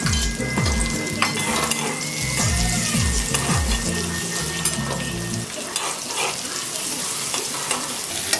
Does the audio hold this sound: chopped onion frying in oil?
yes